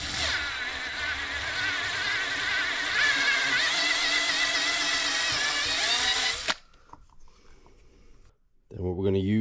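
A power drill boring a 21/64 inch (8.3 mm) hole for a 1/8 inch NPT tap in a 2003 Sea-Doo GTI RFI engine part runs loud and steady for about six seconds, then stops; brief handling noise follows.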